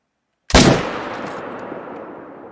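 A single loud rifle shot rings out in a hunting video game, a sharp sudden blast after silence followed by a long decaying echo and rumble.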